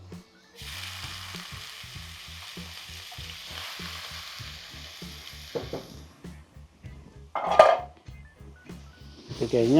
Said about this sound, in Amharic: በሁለተኛው መጥበሻ ላይ ደግሞ ሽንኩርት እንጨምራለን።